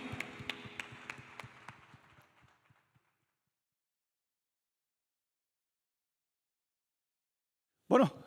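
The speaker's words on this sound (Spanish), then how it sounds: "Den un fuerte aplauso a Jesús." A church congregation claps together in a brisk burst that fades away within a few seconds, followed by near silence and then a sudden loud sound at the very end.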